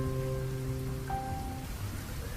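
Rain falls in a steady, close hiss across the whole stretch, with faint sustained tones fading out partway through.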